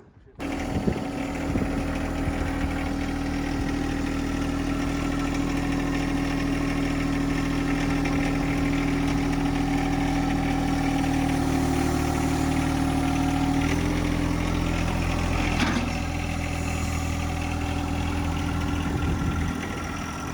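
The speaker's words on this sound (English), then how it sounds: "Oh yeah, little baby tractor." A small engine idles steadily and loudly throughout, a constant low chugging hum with a slight shift in pitch partway through; voices are faintly present.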